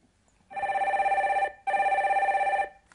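A telephone rings as a call is being connected, giving two long electronic rings of about a second each, separated by a short gap, clear and close against near silence.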